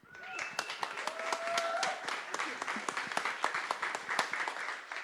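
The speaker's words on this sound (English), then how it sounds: "a big round of applause for Cara, please, everyone" An audience at an evening salon talk on scurvy applauds to welcome a speaker, a moderate round of many hands clapping steadily and fairly close, with a faint voice early on.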